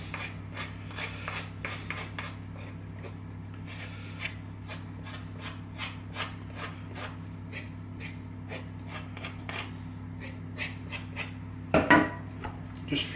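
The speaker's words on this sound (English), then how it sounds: "So another spoon to scrape it off." A spoon scrapes sticky vegan flapjack mixture off another spoon in a pan, giving a series of short close rubbing and scraping strokes over a low steady hum, ending with a couple of louder knocks.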